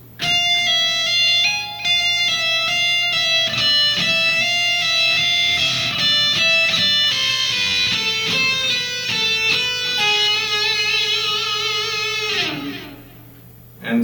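Electric guitar plays a metal solo at slow speed, a continuous run of distorted single notes with bends and sustained tones, loud and close, ending in a held note that fades out.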